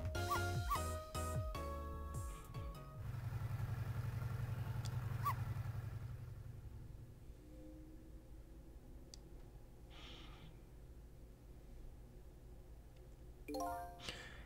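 A dog barks in a park scene of the Ghost Trick video game, a quick burst of loud yips up front followed by a sustained low tone, then quieter scattered game sounds and a final short cluster of barks near the end.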